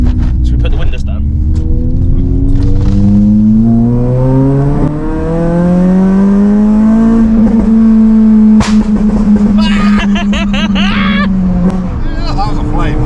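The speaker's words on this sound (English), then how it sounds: "I want to get some pops and bangs on the go now." A remapped Honda Civic FN2 Type R revving hard and pulling through the gears, the engine note rising in long sweeps with sharp crackling pops and bangs near the end, loud and close, with people talking over it.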